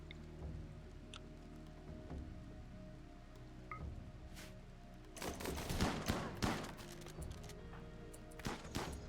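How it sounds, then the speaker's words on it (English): Sniper rifle gunfire in the video game RimWorld, with a dense burst of sharp cracking shots clustered in the middle of the clip over a low steady game soundscape. "it's a sniper rifle."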